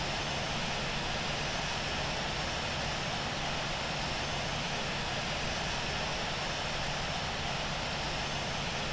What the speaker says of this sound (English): I'm telling you, it's the A380. That's a monster aircraft.